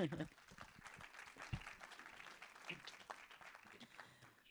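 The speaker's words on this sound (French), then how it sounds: "Oui, oui, vous pouvez applaudir, je vous en prie." An audience at a Lausanne book-prize reading claps after an author's passage, a moderate, even patter of hands lasting several seconds, with some voices and laughter mixed in.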